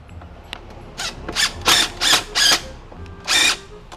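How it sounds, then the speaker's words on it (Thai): Power tool unscrewing the motor mounting nuts on an Electrolux EWF 10751 front-loading washing machine: five short, loud whirring bursts in an uneven rhythm, close by, with no talking. "ถอด ตัวน็อตยึดมอเตอร์เลยนะครับผม"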